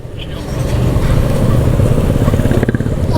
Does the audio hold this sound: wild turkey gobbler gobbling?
no